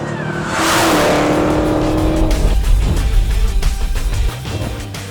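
A Dodge Challenger Hellcat launches hard for a quarter-mile run with wheel spin before traction control cuts in. The close, loud engine roars and climbs steadily as the car pulls away.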